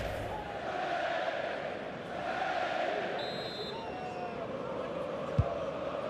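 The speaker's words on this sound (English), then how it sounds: "Well, just listen to this crowd." A large stadium crowd in the football video game EA Sports FC 25 roars and cheers in a continuous dense wash of noise after a late goal, with a brief thump near the end.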